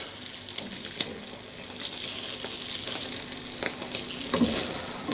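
A French toast bagel frying in oil in a pan gives a steady, fairly quiet sizzle with scattered faint pops and crackles and no talk.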